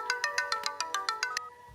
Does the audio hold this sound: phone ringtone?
yes